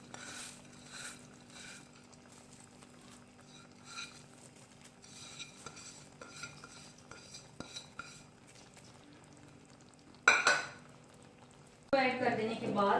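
Crushed brown onions are mixed into chicken in a cooking pot, giving quiet scraping and clinking of a utensil, then two louder bursts of stirring and clatter near the end.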